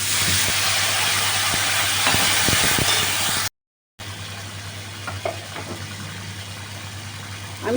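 Masala with cumin powder and water sizzles and bubbles in a pan, first loud and steady with stirring scrapes, then, after a brief gap, a quieter simmering hiss with occasional clinks.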